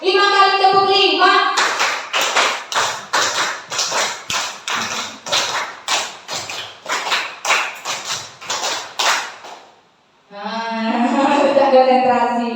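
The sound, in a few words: hand clapping, five claps (tepuk 5)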